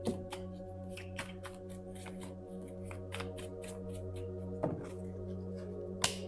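Tarot cards shuffled close by, with soft riffling flicks and a few sharper taps over a steady low background hum, plus a brief knock near the end.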